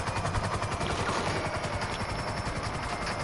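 A helicopter flies overhead with a steady, fairly faint rhythmic rotor chop that holds throughout, with no speech.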